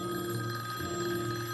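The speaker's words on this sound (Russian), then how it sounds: "И вдруг раздался долгожданный телефонный звонок." A telephone bell rings continuously with a bright, steady metallic tone, loud and close, with no voices over it.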